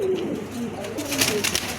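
Pigeon cooing in a bird market stall, a fancy pigeon offered for sale; soft, low rolling coos repeat steadily through the short stretch with faint background bustle.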